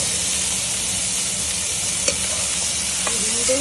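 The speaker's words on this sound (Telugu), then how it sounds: "ఈ ఫ్రై అయ్యేటప్పుడు టమాటా ముక్కలను కూడా వేసి ఫ్రై చేయాలి." A loud, constant sizzle of onion and tomato pieces frying in a pan, with occasional soft scrapes of a spoon stirring underneath.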